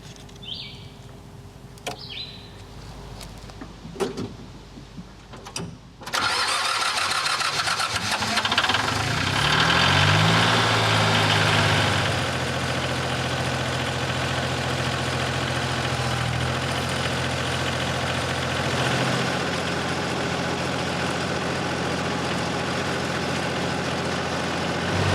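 A few clanks and clicks, then a tractor engine cranks and catches, revving briefly before settling into a loud, steady diesel idle.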